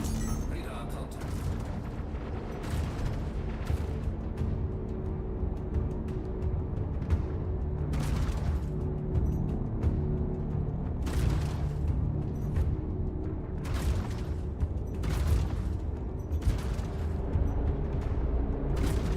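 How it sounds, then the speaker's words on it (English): Explosions from rounds hitting a ship in the space game Star Citizen: repeated broad booming blasts every second or two over a steady rumbling drone, with talk running over parts of it. "The explosions from these rounds hitting the thing are great."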